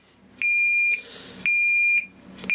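An e2s warning signal unit gives a vehicle reversing alarm, three loud steady beeps in an even on-off rhythm, close and alone.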